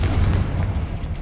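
Confringo explosive spell from Hogwarts Legacy, a single deep booming blast with rumbling low-end that quickly decays, loud and close.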